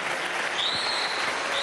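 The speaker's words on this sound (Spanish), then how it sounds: "un aplauso desde aquí" Applause from an audience gathered in the Caracas Metro, a dense steady wash of clapping heard alone for its short length.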